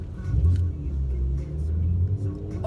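A car engine revs from inside the cabin, a strong low rumble that swells and holds steady across the moment with no talking over it.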